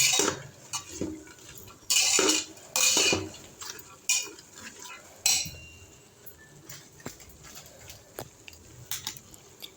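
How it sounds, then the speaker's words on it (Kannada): A spoon scrapes and clinks against a pot while pulao with turmeric is stirred, with irregular bursts of metallic scraping and clatter close up, loud at times, and no talking. "ಅರಿಶಿನ ಹಾಕಿ ತಿರ್ಗಿಸ್ಕೊತಾ ಇದ್ದೀನಿ"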